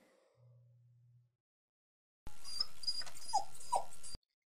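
A dog gives a few short whimpering, yelping sounds after a quiet pause, brief close calls set against background noise.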